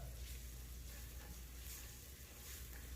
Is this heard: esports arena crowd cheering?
no